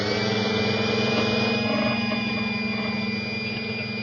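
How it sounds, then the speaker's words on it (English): A Tyco #6 Dodge Charger slot car, green and white, runs steadily on a dyno, giving a continuous whirring motor drone with a fixed pitch that holds level for the whole stretch, close and fairly loud with no talk. "we'll let her get warmed up on the dyno"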